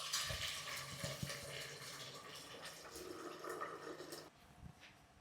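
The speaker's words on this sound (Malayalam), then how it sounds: "നമുക്ക് വെള്ളം ഒഴിച്ച് അടുപ്പത്തോട്ട് വയ്ക്കാം." Water pours steadily into a pot of washed rice, a close continuous gushing fill that stops abruptly near the end, followed by a faint clunk of the pot.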